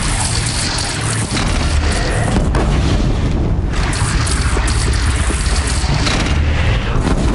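A bridge in Horizon Zero Dawn is shot down and collapses, a loud, sustained rumbling boom of crashing structure and debris that fills the whole stretch without pause.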